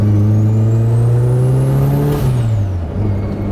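An SR20-powered roadster with a brand-new turbo revs loudly up close, its engine note climbing while a thin high turbo whistle rises alongside, then both drop away as the revs fall.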